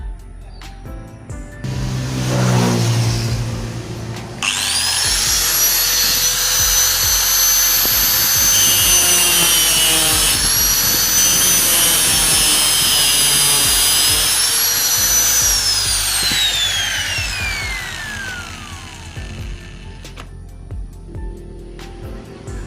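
A power tool cuts through a metal shock absorber part, a loud high-pitched whine grinding steadily for about ten seconds before winding down, with some handling noise beforehand.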